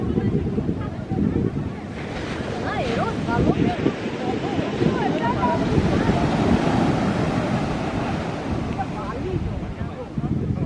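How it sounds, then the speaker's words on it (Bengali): Waves of the Arabian Sea breaking at Alleppey beach in Kerala, a steady broadband roar of surf mixed with wind buffeting the microphone, with voices talking intermittently over it. "Alleppey sea beach, Kerala,"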